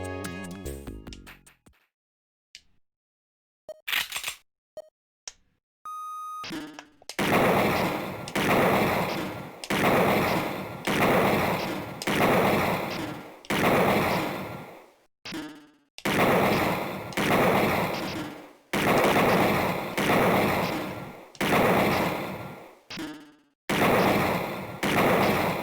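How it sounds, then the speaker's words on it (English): Bursts of ray gun fire from the game Snatcher sound like real gunshots: a long string of loud, sharp shots with brief gaps between them, after a few quieter electronic blips at the start. "the ray gun makes real-ass gun sounds"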